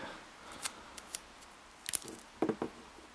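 Short bits of tape cut or torn while working on an Abu 6500 baitcasting fishing reel, giving a few quick sharp snips and rips close by, spaced out with a cluster near the end.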